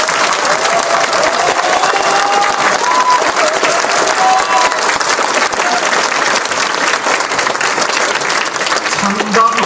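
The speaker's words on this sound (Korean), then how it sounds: "우리 모두 자축의 박수 쳐봅시다." Loud, sustained applause from a large crowd at a Korean political party founding convention in Wonju, dense continuous clapping throughout with some crowd voices mixed in.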